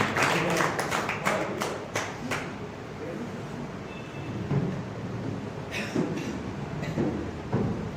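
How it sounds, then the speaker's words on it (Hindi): At a Hindi literary gathering, the audience welcomes the special guests with clapping, a burst of close, sharp claps at the start that thins into scattered claps and fades under room noise. "सभी को एक बार जोरदार तालियों से उनका स्वागत करें।"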